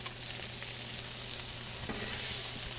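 Garlic and vegetables sizzle steadily on a Blackstone griddle while fried rice is prepared, a constant bright hiss with faint scraping stirs, close and even throughout with no talking.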